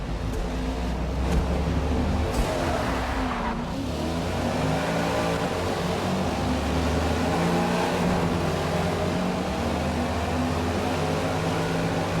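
Cars racing in the Forza Motorsport 8 video game, a continuous loud engine roar that holds steady throughout with a rev change early on, and no talking.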